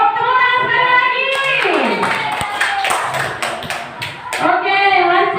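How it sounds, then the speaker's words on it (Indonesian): A group of women in a classroom clap their hands together, a brief burst of scattered claps mixed in with voices and a sung or chanted tone, close and loud. "Oke ibu-ibu, tepuk tangan sekali lagi."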